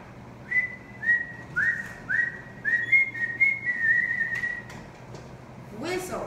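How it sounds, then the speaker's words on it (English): A person whistles a series of short rising notes, about ten in a row, fairly close and clear, followed by a brief voice at the end. "Whistle is a high-pitched sound made by blowing air through your teeth and lips"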